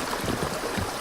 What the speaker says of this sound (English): Little water running through my little town